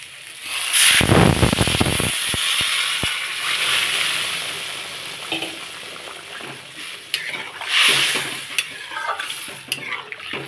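Water poured into a sautéed, spiced curry base for an egg and lentil-fritter curry hits the hot pan. A loud burst of sizzling and splashing gives way to steady bubbling and stirring, with no talk.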